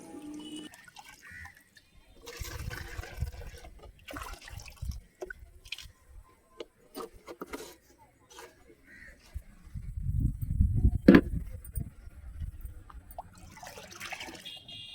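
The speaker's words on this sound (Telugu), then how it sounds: "ఆ లిక్విడ్ మొత్తాన్ని పోసేసి మొక్క మొదట్లో అయితే పోసేసుకోవడమే" Homemade liquid fertilizer pours and splashes into water in a few bursts, loudest near the end, with quiet dripping and handling noises in between.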